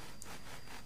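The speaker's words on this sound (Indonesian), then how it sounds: "sedalam gergaji besi ini sampai masuk ke dalam semua" A hacksaw cuts partway into material while preparing a hydroponic salad-vegetable seedling setup, giving a few quiet, rhythmic rasping strokes.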